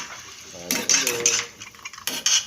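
Adobong sitaw stirred in a pan with a utensil, a few close scraping and clattering strokes against the pan, with a voice speaking faintly in between.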